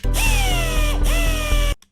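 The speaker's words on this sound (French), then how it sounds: "Ça c'est la perceuse." A drill sound effect in an edit: a loud, steady power-tool whine with pitch sweeping as the motor revs, briefly cut and restarted, then stopping abruptly.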